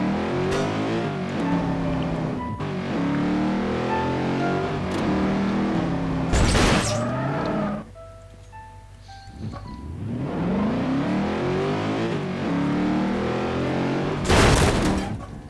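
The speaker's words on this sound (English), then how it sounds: "Let's get in this blazer and hit it." A Blazer car engine in Garry's Mod hums and revs steadily with rising and falling pitch sweeps, broken by two sharp loud bursts and a brief quieter gap midway.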